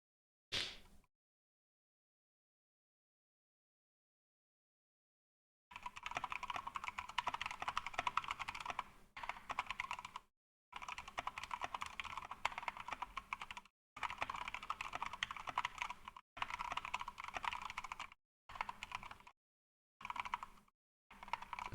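Typing on a K65 Mini keyboard fitted with silent switches, steady bursts of close, quiet key presses separated by short pauses, with no talking.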